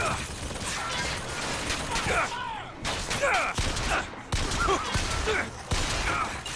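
Enemy gunfire hits the player in Bioshock Infinite: scattered sharp shots crack out in a loose irregular burst, several close bangs with short gaps and mechanical clatter between them.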